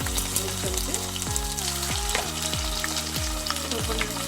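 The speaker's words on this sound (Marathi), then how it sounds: "आता आपण आलं लसणाची पेस्ट टाकू." Ginger garlic paste hits hot oil with browned onions in a pan, giving a loud, steady close sizzle, while a repeated rising whine sounds over it at a regular pulse.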